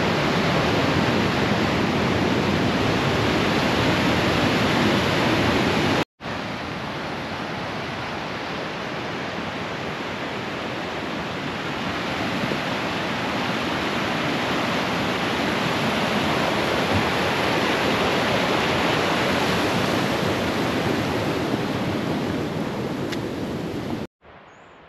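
Mountain waterfall in the high Alps of the Queyras, heard close from its top: a loud, steady broadband roar of rushing water filling the whole clip, with a brief cut near the start.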